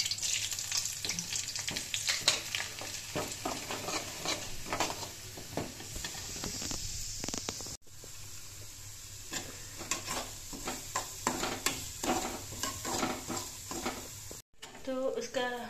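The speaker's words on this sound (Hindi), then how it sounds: "तो उसका सूजी का हलवा बन गया है" Semolina halwa fries in a pan with a constant hissing sizzle, and a spoon scrapes rhythmically against the bottom as it is stirred nearby.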